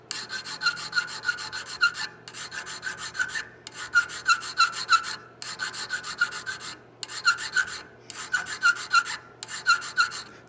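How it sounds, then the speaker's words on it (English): A three-cornered file rasps across a cast part of a colonial-style kit, repeating close, even strokes in a steady rhythm, each scrape broken by short pauses. "get a little more draft with a 3-cornered file"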